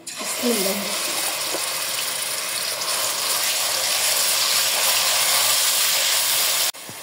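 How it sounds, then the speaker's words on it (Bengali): Blended onion paste drops into hot oil in a pan and sizzles into a loud, sustained hiss for several seconds, cutting off abruptly near the end, with a brief voice at the start. "তেল গরম হয়ে গেছে, ব্লেন্ডার করা পেঁয়াজ দিয়ে দেবো।"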